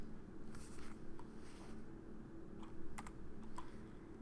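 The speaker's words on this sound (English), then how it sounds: "I'm actually going to hit Shift and Enter on my keyboard and type in lip" Quiet keystrokes tap on a computer keyboard in a quick, uneven run of clicks, close and soft, with no talking.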